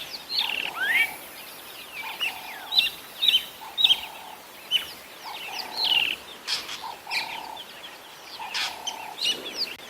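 A drongo calls loudly and repeatedly while mobbing a pale morph Wahlberg's eagle at sunset on safari, its sharp chirps and harsh notes coming in quick bursts over a steady background of other calls.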